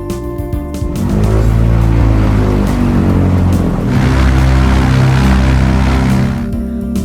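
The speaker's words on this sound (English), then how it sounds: "Fly the blimp." A blimp flies past with a steady, loud engine and propeller drone that swells in and fades, broad and rumbling, with no voices.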